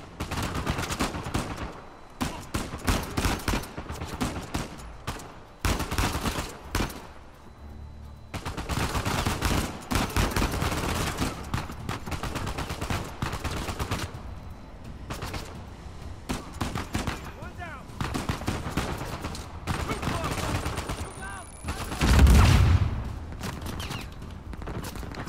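Gunfire in Uncharted 4: A Thief's End, dense bursts of automatic and single shots crackling loudly in clusters with brief lulls, a heavier boom near the end, and faint voices underneath.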